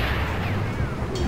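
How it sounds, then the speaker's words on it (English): Main cannon of a mech firing in the video game Ring of Red, a loud booming blast with rumbling low-end texture that rolls on densely for the whole moment, no speech. "Fire the main cannon!"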